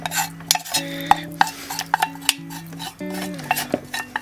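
Onions caramelising in a pan for a Greek lamb pizza are stirred with a metal utensil, giving a run of close, sharp clinks and scrapes over steady tonal background sound.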